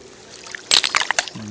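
A large stone tossed by a child splashes into spring water outdoors, one sudden close splash with a short burst of spatter and dribbling afterward, a brief voice rising at the end.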